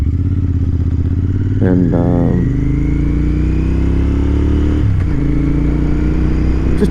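A cafe racer motorcycle engine drones steadily while riding, with a short burst of revving near the start and another shift later; a voice speaks briefly over the constant motor noise.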